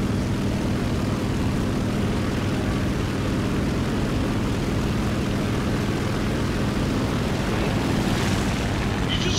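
Helicopter flying in the combat game War Thunder, a steady loud rotor and engine drone with dense low rumble throughout, growing slightly at the end.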